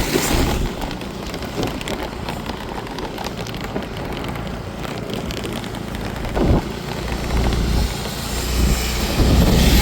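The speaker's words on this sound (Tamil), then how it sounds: "பாருங்கள், மழையை பாருங்கள்," Steady rain in the hills near Kodaikanal, India hisses with a broadband wash, heavy and continuous, mixed with a low rumbling drone throughout.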